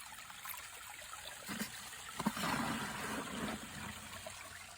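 Water swishes and trickles in a gold panning bucket outdoors, a faint, steady sloshing that rises into a few louder splashes near the middle.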